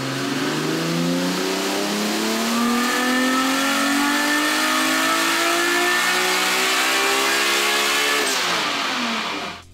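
Nissan R32 GTR with a 1000hp RB26 engine on a dyno power run at wastegate pressure, a loud, continuous engine roar rising steadily in pitch for about nine seconds before cutting off sharply.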